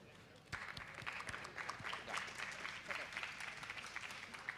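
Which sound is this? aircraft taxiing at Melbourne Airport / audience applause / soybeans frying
audience applause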